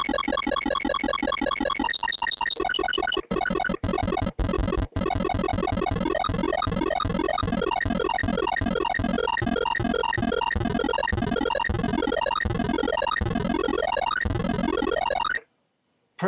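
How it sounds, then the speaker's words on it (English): Chiptune synth built in Reason 6.5.3, played without an arpeggiator: a loud, continuous run of buzzy square-wave notes in quick melodic phrases that briefly drop out a few times, then stop abruptly near the end. "So the synth without the arpeggiator sounds kind of like this."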